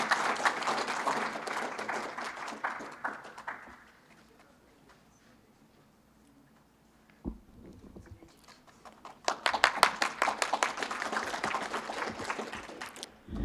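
Audience applause for winners of the 2018 VQA challenge: a dense burst of clapping fades to near quiet with faint rustling and a thump, then a second strong swell of applause follows.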